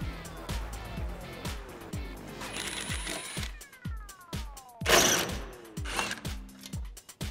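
Repeated ratcheting clicks from a T15 Torx socket ratchet backing out the taillight bolts on a 2014-2018 Chevrolet Silverado 1500, close and steady, with rapid rhythmic ticks in runs and a few brief louder scraping bursts.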